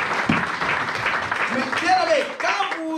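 A church congregation bursts into applause, steady dense clapping that fills the room while voices and singing rise over it.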